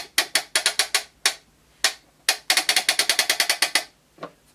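Sharp plastic clicks and rattles come in quick bursts as a toy washing machine's drum is cranked round, with brief pauses between runs.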